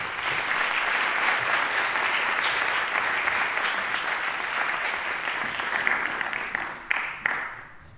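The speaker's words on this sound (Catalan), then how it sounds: "Un fort aplaudiment." Sustained audience applause at a student instrument recital fills the room, dense and steady at moderate loudness, thinning out toward the end.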